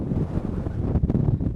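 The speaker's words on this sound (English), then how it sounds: "Nice and windy up here." Wind roars across an exposed hilltop tent pitch, a loud, continuous low buffeting against the microphone with gusty swells and no voices.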